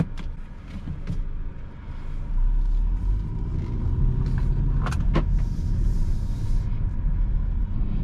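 A 2016 Audi A6 Premium Plus 2.0T quattro sedan on the road, heard as a steady low cabin rumble and road noise that grows heavier as it gets under way, with a few faint clicks.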